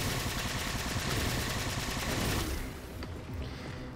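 Dense, continuous gunfire from Halo 4 Spartan Ops, with many weapons firing at once. It stays loud and steady for about two and a half seconds, then falls away to quieter scattered shots.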